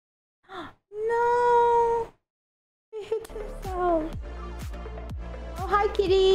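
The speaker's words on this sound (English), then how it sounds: "Oh, hi, kitty." A house cat meows nearby, with one short call followed by a long drawn-out wail, then a series of warbling meows over a low background hum.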